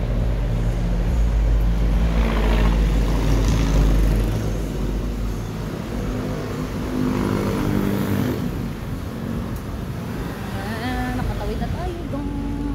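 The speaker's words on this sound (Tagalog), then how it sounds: "Daming mga sakyan." Busy road traffic flows past, with cars and motorcycles passing close in overlapping waves of engine noise and tire rumble, swelling and fading continuously throughout.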